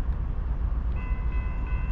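A Union Pacific locomotive leads a freight train slowly past a crossing. The train rumbles heavily and close, and faint bell-like tones ring partway through.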